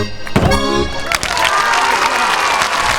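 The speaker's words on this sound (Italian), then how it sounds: "E fra gli applausi scroscianti del numerosissimo pubblico che ha letteralmente invaso la grande Piazza Europa" A large crowd at an international folk festival in Piazza Europa, Usini, Sardinia, breaks into thunderous applause. A short voiced passage opens, then a dense, continuous roar of clapping fills the rest.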